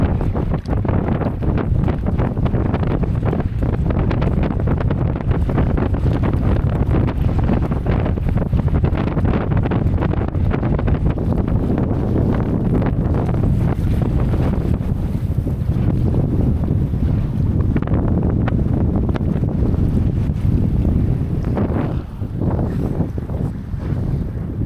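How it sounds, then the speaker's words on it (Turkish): Strong wind roars over the open sea around a small boat during a storm, a constant loud buffeting rush with the whoosh of water and waves underneath, and no voices. "Çok fazla rüzgar var ya."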